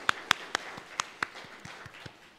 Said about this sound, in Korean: 우리 하나님께 찬양과 영광의 박수를 올려드리겠습니다